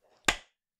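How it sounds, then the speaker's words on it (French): A single hand clap, one sharp close slap with a quick decay, preceded by faint rustling, then silence. "tu peux applaudir"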